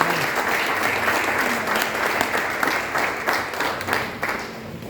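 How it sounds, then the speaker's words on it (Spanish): An audience applauds together at a book launch in Lima, with dense, steady clapping that carries on throughout and rises a little in places, and a few faint voices can be made out underneath. "para dar un fuerte aplauso"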